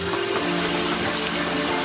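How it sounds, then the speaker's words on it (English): Water runs steadily from a kitchen tap, a constant close broadband rush with no break, while flour is measured for homemade Somali pasta. "I just left the water on."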